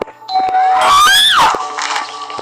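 An electronic doorbell chime rings out loud and clear, a bright tonal melody with a rising sweep and a brief wavering tail, no voices.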